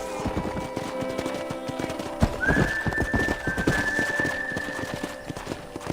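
A horse clip-clops near a corral in Red Dead Redemption, steady hoof knocks with a long whistle tone running through the middle.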